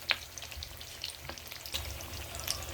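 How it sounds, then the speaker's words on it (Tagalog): Leftover lechon pork fries in oil for lechon kawali, giving a faint steady hiss with a few sharp pops and crackles scattered through it, quiet and without talk. "This is real lechon and then I just fry it."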